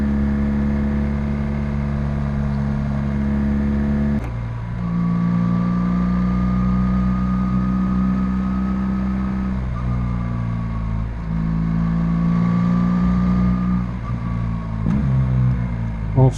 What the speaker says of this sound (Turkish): Şu tüneldeki motor sesi, bayılıyorum.